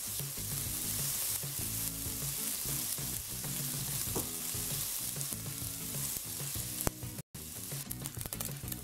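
Bacon frying in a pan while making farofa, a steady close sizzle and crackle with occasional stirring, no voices.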